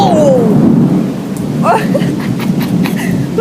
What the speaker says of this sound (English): Rain! Hail! Lightning! Everything that you can possibly imagine!